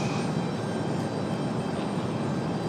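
A JetBlue jet airliner passing close by, with a loud, steady broad engine roar that fills the whole short moment without letting up.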